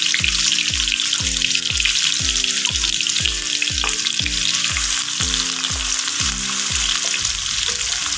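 Chopped onions sizzle in hot oil for mutton karahi, a loud continuous frying hiss with a steady repeating low rhythmic tone beneath it.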